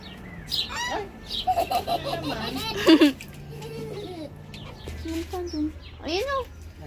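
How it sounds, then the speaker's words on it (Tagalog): A pet bird gives repeated short chirps and tweets at close range. The chirps are interleaved with a person's soft, high-pitched talk. "Pretty bird. Birdie birdie. Little bird."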